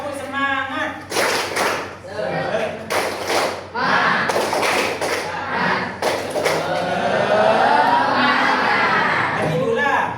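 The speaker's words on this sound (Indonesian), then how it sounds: "Tepuk semangat." A classroom of children performs a rhythmic spirit clap, sharp bursts of group clapping in patterned beats alternating with loud chanting voices, ending in a rising shout from the class.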